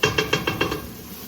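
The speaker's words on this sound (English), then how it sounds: "this tomato paste, you have to keep stirring it" Tomato paste is stirred in a pot for an oxtail stew sauce, making five quick, evenly spaced scraping strokes close up, then a fading simmer.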